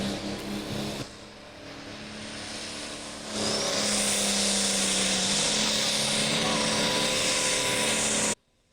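A heavy pulling tractor engine roars at high revs at a tractor pull, and the pitch climbs as the load increases. It stays loud and continuous until it cuts off abruptly.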